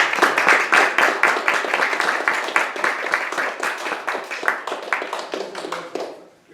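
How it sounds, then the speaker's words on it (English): Applause from a research fellowship conference audience at the close of a Q&A, with clear individual claps in a brisk, fairly close rhythm that thins out and stops abruptly near the end. "I'm going to suggest we close with a round of applause from all"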